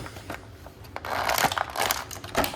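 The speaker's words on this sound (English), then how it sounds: "crinkling noise. So if you're wearing headphones, turn them down." Plastic packaging crinkled and crushed up close while items are unwrapped, irregular bursts of crackling rustle that grow denser midway, alone without talk.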